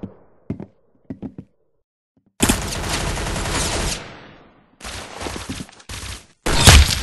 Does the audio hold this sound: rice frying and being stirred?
no